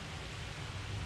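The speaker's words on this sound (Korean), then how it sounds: "숙소에 돌아와서 이제 불을 끄고 빗소리를 듣는데" Rain and wind driving down at night outside lodging in Innsbruck, Austria, a steady dense hiss with a low rumbling undertone, even and continuous throughout with no voices.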